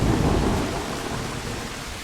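Thunder rolls through a rainstorm at night near an old sawmill, a loud low rumble that peaks at the start and slowly fades under steady rain hiss, with no voices.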